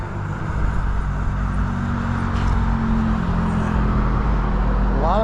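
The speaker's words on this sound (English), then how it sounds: "A lot of traffic." Steady rush-hour road traffic rumbles past a rider on an electric bike, a continuous loud low drone of car engines and tyres with engine tones shifting as vehicles go by, no pauses and no talking.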